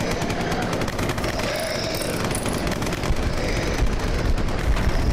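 Video game gunfire at mutated zombies from a WW2 train, rapid machine-gun-like bursts in a dense, continuous clatter that grows slightly louder toward the end.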